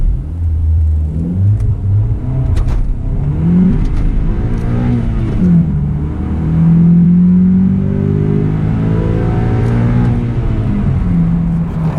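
Honda Accord CL9 accelerating hard from a standstill to 100 km/h, its engine climbing loudly through the revs with rising tones and brief dips at gear changes, steady and close throughout with no talking.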